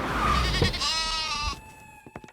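A goat gives one long, wavering bleat close by, loud at first and then fading, followed by a few faint knocks.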